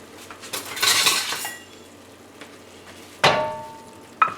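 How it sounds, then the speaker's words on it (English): A flathead metal spoon picked from a cutlery drawer, giving a clattery metallic rummage followed by two distinct clinks a few seconds apart, close and fairly loud. "I'm gonna grab a spoon."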